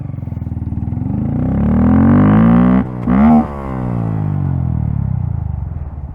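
Honda Grom motorcycle with a Yoshimura exhaust, ridden and accelerating through a gear, engine note climbing loud and close, a brief dip at the shift, then climbing again and easing off.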